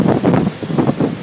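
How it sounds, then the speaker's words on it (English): Strong high wind of around 60 mph buffets a microphone near a Comansa tower crane, loud rushing gusts swelling and dropping in quick surges with heavy low-end rumble. "Probably the worst wind I've seen since I've been here."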